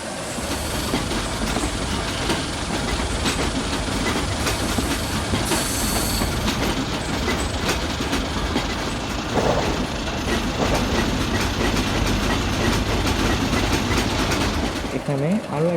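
Parabat Express coaches roll slowly through shunting at Kamalapur, with a steady loud rumble of wheels on track and rhythmic clacks over points, plus faint birds in the background.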